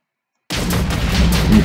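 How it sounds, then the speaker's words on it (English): A submachine gun fires in a Minecraft weapons mod, a loud dense burst of rapid shots that starts abruptly after a moment of silence and keeps going to the end, with no talking. "Next up is the submachine gun, which uses"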